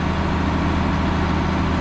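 A farm tractor idles steadily after hauling and loading hay bales, a continuous low engine rumble close by with no talk.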